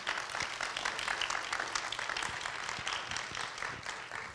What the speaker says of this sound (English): Let's give him another good round of applause here.